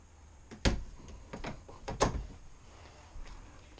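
Someone opens a small storage door on a 2019 Jayco Jay Feather 27BH travel trailer. A few quiet clicks and knocks sound from the latch and hinge in a still, close setting.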